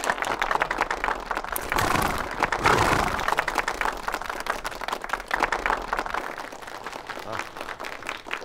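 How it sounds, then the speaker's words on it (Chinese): An assembled group of soldiers applauds, a fairly close burst of many hands clapping that swells and then gradually thins out. "大家鼓掌。"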